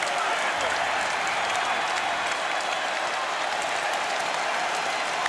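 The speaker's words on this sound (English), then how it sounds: "This crowd is absolutely delirious." A delirious home crowd roars and applauds continuously at a 2002 Eastern Conference Finals game between the Boston Celtics and New Jersey Nets during a timeout after a big comeback, a dense, steady arena wash.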